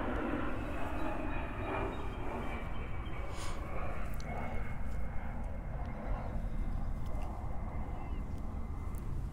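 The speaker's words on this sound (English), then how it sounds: "let's let the plane pass" An airplane passes overhead outdoors in a cemetery, a steady, distant low roar and rumble that holds for the whole stretch with faint background sounds.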